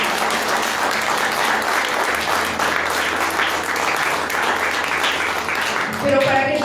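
An audience at a church sermon breaks into sustained, loud applause, dense clapping that holds steady for several seconds, and a voice comes in as it ends.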